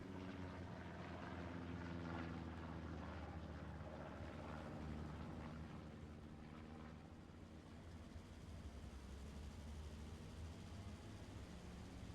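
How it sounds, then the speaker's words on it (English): A recon plane droning overhead in a multiplayer World War II tank game, a steady propeller engine hum with a slowly shifting pitch, distant and faint, alone without voices. "I believe this recon plane is going to be a 24/7 group's recon plane"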